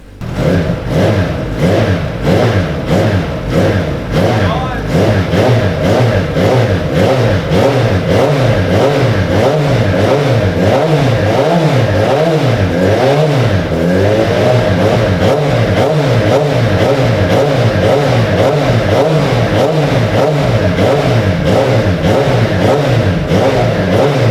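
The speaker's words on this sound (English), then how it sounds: "Enjoy the sounds of a Hayabusa." A Suzuki Hayabusa motorcycle engine fitted in a formula race car revs repeatedly, loud and close, rising and falling in steady cycles with a constant rumbling drone underneath, on its first start.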